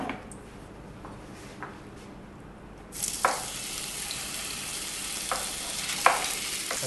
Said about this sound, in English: So we will sear the meat in oil and then cook it.